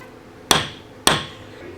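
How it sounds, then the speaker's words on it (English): Small fuel pump fitting on a 300 XC-W dual sport motorcycle hammered flat, two sharp metallic hammer strikes about half a second apart, close and ringing briefly, with no voices. "So I just pound that little guy flat."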